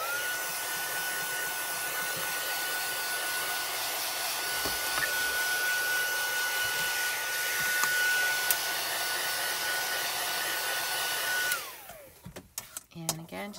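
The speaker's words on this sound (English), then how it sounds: "I'm just going to take the heat tool to this and set it real quick so that we know our ink is all dry" A handheld heat tool blows over freshly stamped ink on a craft project, making a loud, steady whirring hiss for about eleven seconds before it switches off abruptly and leaves a few small knocks.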